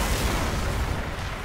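A pipe bomb exploding in Left 4 Dead 2, a loud, close, broadband boom and rumble that fills the short moment without pause or talk.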